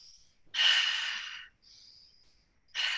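Two long, forceful breaths during an intense breathing exercise, each a loud rushing exhale, with a faint breath between them and close to the listener.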